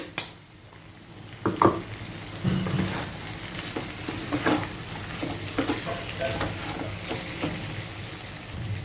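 Fried brinjal with garlic and peanut spice powder is stirred in a pan, giving a continuous gentle sizzle with repeated scraping and tapping of the spoon, close and moderately loud.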